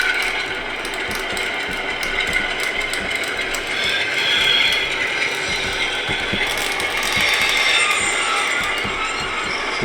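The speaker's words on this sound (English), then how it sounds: "Function 9 simulates flange squeal." A continuous high metallic squeal and grinding chatter from a LokSound V5 decoder's model locomotive flange squeal effect, steady and loud throughout with no voices.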